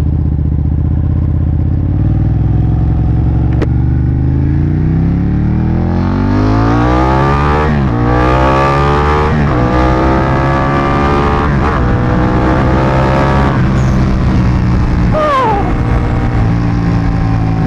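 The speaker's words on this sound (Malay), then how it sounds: "Ramping gila tu motor ni." Ducati 959 Panigale motorcycle engine revving hard on a ride, loud and close, with rising pitch sweeps through repeated gear changes and short throttle blips before a final rev near the end.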